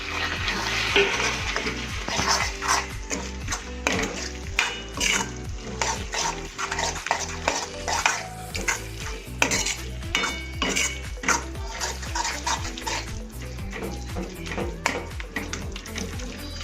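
About 200 g of paneer tipped into a frying pan for street-style cheesy paneer gotala and stirred: repeated close scraping and clinking of a utensil against the pan over a light sizzle, in an uneven steady rhythm.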